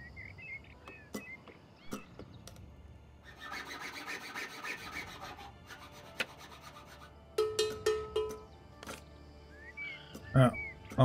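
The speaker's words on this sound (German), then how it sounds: "Der schraubt und hämmert" Builders at work in the city-building game Kingdoms Reborn: scattered hammer knocks and a burst of rasping, screw-like rubbing, with sharper tapping later, mixed under game ambience and a talking voice.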